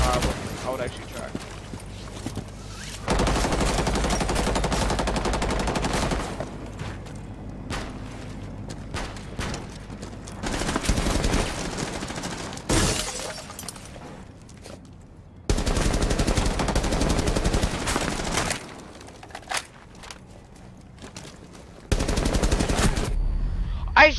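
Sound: gunfire from video game Rainbow Six Siege

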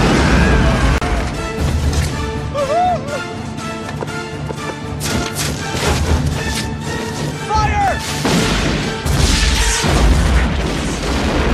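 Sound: cannon fire in a video game

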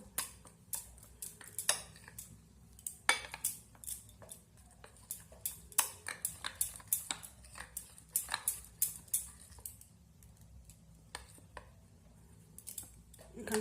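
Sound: whisking thick semolina batter in a bowl

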